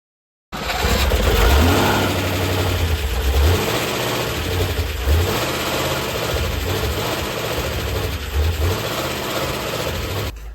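A Rover P6 3500 V8 engine fires up for the first time on a dyno, running loud and close with an uneven, rough idle and surging revs that rise and dip throughout, no voices over it.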